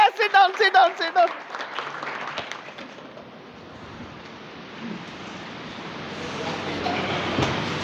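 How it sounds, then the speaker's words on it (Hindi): A school audience applauds loudly for a student, part of a stage play; a brief spoken voice comes first, then steady, broad clapping carries on for several seconds and swells slightly near the end. "जरा इसके लिए ताली बजाओ जोर से"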